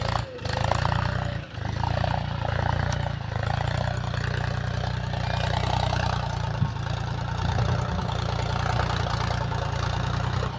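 A tractor engine runs steadily at a low rumbling idle, loud and close, holding a constant droning pitch throughout with one brief dip near the start.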